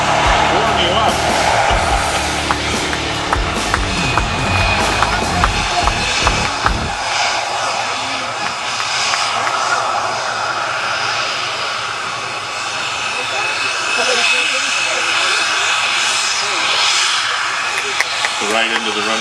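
An aircraft taxis on the runway at the Biggin Hill International Air Fair 2008, its loud, steady engine drone filling the scene while an announcer talks over a public address system.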